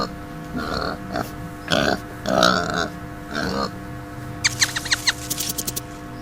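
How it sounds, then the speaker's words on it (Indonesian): A pig grunts in several short, rough bursts, followed by a quick string of higher squeaky squeals near the end, all fairly close and moderately quiet. "pig"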